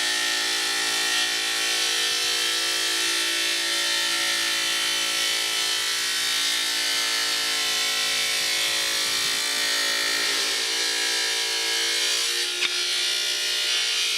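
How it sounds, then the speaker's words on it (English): A Blue Ripper Sr 5hp rail saw with a diamond blade cutting stone gives a steady, loud, high-pitched whine that holds on without a break, with a brief click near the end. "This saw needs to cut very quickly."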